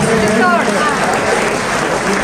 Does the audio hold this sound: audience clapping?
yes